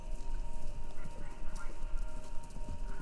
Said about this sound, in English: It sounds like horses. Horses running? A race?